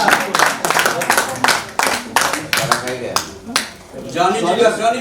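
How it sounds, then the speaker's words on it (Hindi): Sharp, separate hand claps at a Mumbai mushaira at Mayor's Hall, Juhu, several people clapping in a loose, uneven rhythm close by before a voice begins speaking at the end. "भाई तालियां बजाओ तालियां बजाओ"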